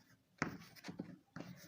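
Marker or chalk strokes on a classroom board during a Class 9 algebra lesson, a few short scratchy bursts separated by pauses, close and moderately loud with no talk over them.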